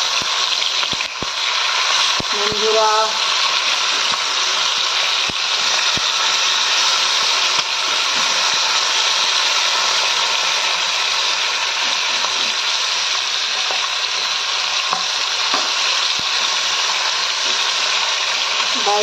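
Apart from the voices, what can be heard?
fish frying in a pan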